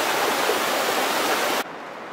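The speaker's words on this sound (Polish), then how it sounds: "A ta rzeczka to jest właśnie z tego lodowca pochodzi." A glacier-fed mountain stream rushing near waterfalls in Norway, a dense steady roar of water close by that drops abruptly in brightness near the end but keeps flowing.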